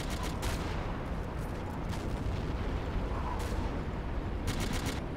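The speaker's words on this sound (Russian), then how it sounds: "Так, они там стреляют потихоньку." Gunfire in the WWII strategy game Battlegroup 42 rattles continuously, with sharp repeated shots and bursts over a rumbling battle backdrop at a steady, busy pace.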